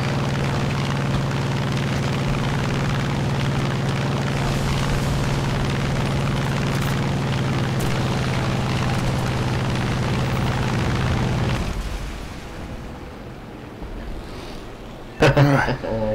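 Aircraft-dropped bombs exploding in the War Thunder video game, a loud, dense roar with a steady engine drone that rumbles on for several seconds, then falls away, followed by a sharp burst near the end.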